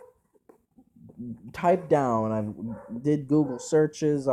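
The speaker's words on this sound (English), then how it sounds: "If you can hear my dog in the background, of course she has to start barking when I start recording" A female dog barks intermittently in the background while someone talks over it in a room close to the mic.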